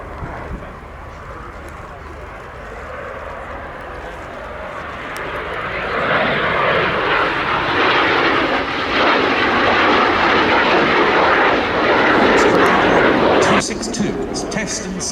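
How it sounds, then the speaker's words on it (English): A Messerschmitt Me-262 jet fighter makes a flying pass at an air show, its jet roar swelling from a distant rumble into a loud, broad rushing sweep, then cutting off sharply, with a commentator talking over it. "for its first pass, the remarkable shape of the Me-262."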